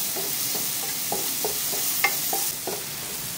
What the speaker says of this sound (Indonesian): Ini ditumis sampai harum ya.